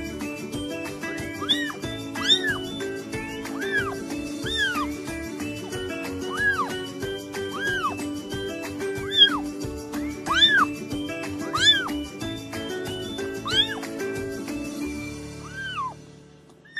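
A young kitten meows repeatedly in short, high, rising cries while being bottle-fed milk, steady and fairly close, with a low continuous hum underneath.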